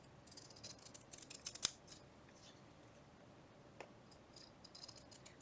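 Scissors snipping a piece of fabric cut from Amazon packaging, a few close crisp cuts with one sharp loud snip, against a quiet background without talk.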